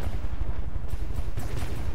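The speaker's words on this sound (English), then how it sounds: "All those lovely explosions coming from our turrets" Dense, continuous booming blasts and explosions from cannon turrets in the game From The Depths roll on without a break, loud and crowded with low rumble, like heavy rapid cannon fire.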